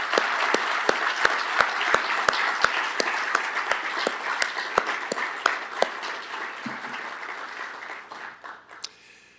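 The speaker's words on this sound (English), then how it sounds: "I do ask for another round of applause for these magnificent people." Audience applause at the dedication of the Tina and Hamid Moghadam Building (Building 55), a sustained round of dense clapping with a few sharp individual claps standing out, fading away near the end.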